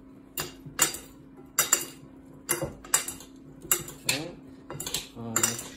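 A utensil mixing cucumber salad in a bowl, giving repeated clinking and scraping strokes against the dish in a steady rhythm, close and fairly clear over a faint background hum, with no talking.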